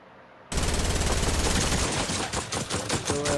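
Rapid automatic gunfire in a video game, a dense burst of shots that starts abruptly and rattles on for nearly three seconds.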